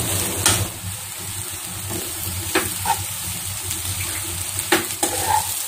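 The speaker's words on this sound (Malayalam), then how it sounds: "നന്നായിട്ട് അങ്ങോട്ട് ഇളക്കിയെടുക്കുക." Masala fries in a pan while being stirred, giving a steady sizzle broken by a few sharp scraping strokes, close and fairly quiet, with no talking.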